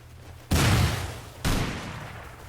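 Two heavy rocket blasts in Rust's World War Rustopia raid, the first at half a second and the second about a second later, each a loud broadband burst that decays into a rumbling tail.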